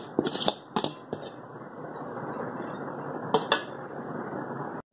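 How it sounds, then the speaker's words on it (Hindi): Leftover cooked rice for zarda is tipped into a pot: sharp metallic clinks of a spoon against the rim at the start and again later, with a soft continuous rustling patter between them, close by. "फिर इसमें हम अगेन चावल जो बच गए हमारे वो सारे हम डाल देंगे"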